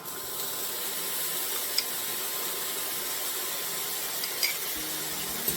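Minced garlic sizzles in a pan for mushroom pasta, a soft steady frying hiss with a few light clinks of a utensil, fairly quiet and without speech.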